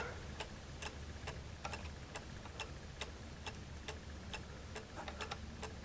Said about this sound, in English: Let's hear it strike 1. So we switch it on.